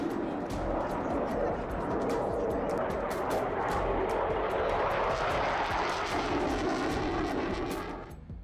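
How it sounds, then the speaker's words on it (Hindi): Roaring jet engine noise from US fighter jets at a Middle East airbase, a loud, sustained broadband rumble that holds steady for most of the stretch before tapering off at the end, with no talk. "मध्य पूर्व के एयरबेस पर अमेरिकी फाइटर जेट्स तैयार हैं, जो किसी भी वक्त हमले के लिए उड़ान भर सकते हैं।"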